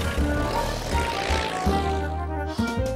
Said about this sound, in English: he decided to fly in my toy plane